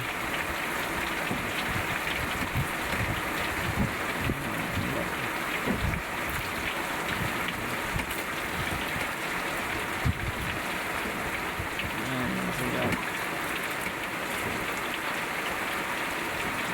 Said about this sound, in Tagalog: Ito pang ulan, lakas ng ulan